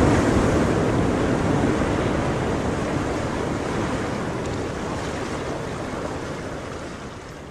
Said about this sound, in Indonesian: Suara debur ombak.